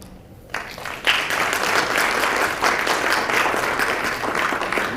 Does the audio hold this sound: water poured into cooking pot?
no